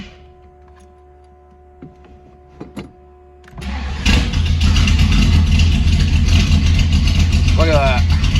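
An engine on full choke cranks and fires up abruptly, then settles into a loud, steady, close running roar with a brief vocal exclamation near the end.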